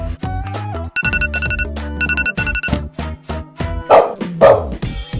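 A dog barks repeatedly in quick bursts, close and loud, mixed with an electronic ringing tone that chimes in short repeated patterns.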